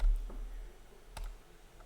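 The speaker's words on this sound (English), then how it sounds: "you can type in here www.google.com.au" A web address is typed on a computer keyboard: a few light, sparse key clicks, close and quiet, separated by short pauses against a faint background hiss.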